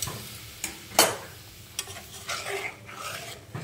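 Hot water poured into a pan of hot cooking oil on a home stove, giving a sharp sizzling hiss with a few sudden spitting bursts that settle into a softer frying crackle, close and with no one talking.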